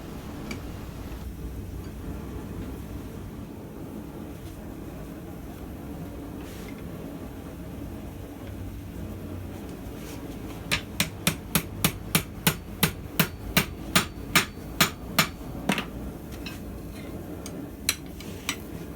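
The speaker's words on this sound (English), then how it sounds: "Let the hammering do the talking." Roughly a dozen sharp metallic hammer strikes ring out in a steady rhythm over low background noise, forging wide jaw tongs from lightweight stock, followed by a couple of isolated taps.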